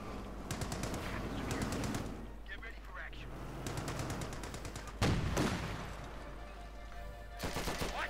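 Company of Heroes 2 battle sounds: bursts of rapid machine-gun fire and single gunshots crackle in a 1v1 match, with rattling volleys at the start and a loud boom near the middle, all layered over a steady game background.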